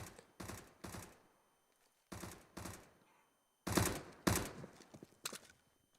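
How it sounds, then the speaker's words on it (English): UMP submachine gun fire in Counter-Strike on the Cobblestone map during a pro match: several sharp bursts of rapid shots in short clusters, with brief silent gaps between them. "Body trying to fire through the smoke with the UMP"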